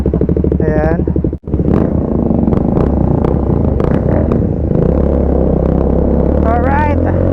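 A Triumph Speed 400 motorcycle engine runs steadily up close with a low, continuous rumble, with brief high chirping sounds near the start and end.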